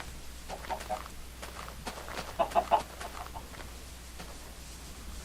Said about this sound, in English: Entirely too many chickens here.